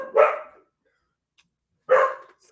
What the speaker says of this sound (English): when she starts barking, the others start barking, and it's just like a tirade of dog barks